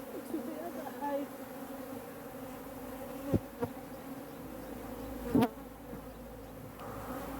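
African honey bees hum in a steady, faint drone during a post-winter hive inspection as they are moved to another hive, with a few brief soft knocks and handling bumps in the background.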